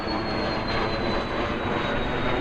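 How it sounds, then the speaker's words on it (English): A B-17 bomber makes a low pass overhead at a warbird airshow, its steady, loud engine roar filling the air continuously throughout, with no voices over it. "We have one coming right over my head"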